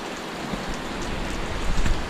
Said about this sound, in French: Parce qu'il pleut vraiment trop.